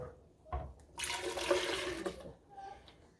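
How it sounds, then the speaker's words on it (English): Water swished and poured while rinsing out a kitchen blender during a spinach fufu preparation, a short splashing, gushing burst lasting about a second with a brief softer trickle after. "I'm going to rinse out the blender with the remaining of the water"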